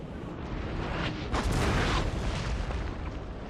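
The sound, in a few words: cannon artillery fire in video game Napoleon: Total War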